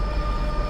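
Train running in the video game Train Simulator 2020 on the Donner Pass route, a steady low rumble with a faint continuous whine, close and constant with no talking.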